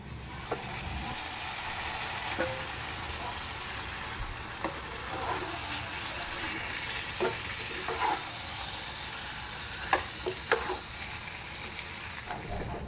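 Pieces of chicken frying in a cooked-down spice masala for biryani in a home kitchen, with a soft, steady sizzle and scattered clinks and scrapes of stirring. The sound stays quiet throughout and no one speaks.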